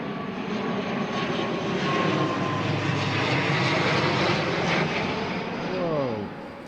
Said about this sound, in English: that's an ATR